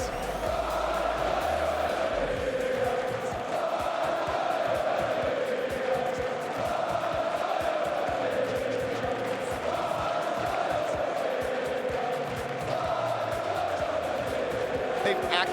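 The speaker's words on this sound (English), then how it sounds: "this audience just starts another rendition of one of my favorite chants" A large esports arena crowd at a Rocket League Championship Series major chants together in a loud, sustained roar with rhythmic swells, continuous throughout and dense.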